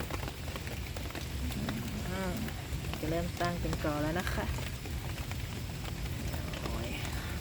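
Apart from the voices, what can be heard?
rain falling on a garden of colorful caladium plants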